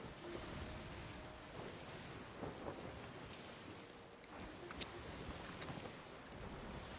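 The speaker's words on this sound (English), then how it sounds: "listening to the sounds of the ocean" Ocean waves wash steadily around a sailing ship in the pirate video game Sea of Thieves, a continuous broad surf-and-wind rush with a few faint creaks and splashes, no voices.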